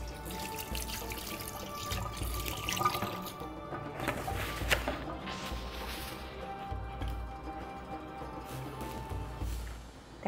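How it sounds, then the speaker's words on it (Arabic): Hands washed under a running kitchen tap, a steady, fairly quiet rush of water with light splashing changes as the hands move through the stream, continuous for about ten seconds with no talking. "هغسل ايدي دلوقتي"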